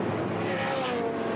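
A touring race car slides out of the last corner at a racing circuit, its engine roaring loud and continuous with a tire squeal running across the whole clip.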